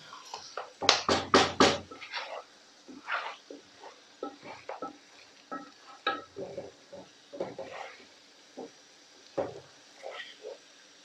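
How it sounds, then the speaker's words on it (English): Biryani stirred in a handi over high heat: a quick flurry of loud scraping strokes at first, then a long run of softer, irregular clinks and scrapes against the pot, close by and with no talking. "I'm going to keep this handi on a high heat, mix everything in"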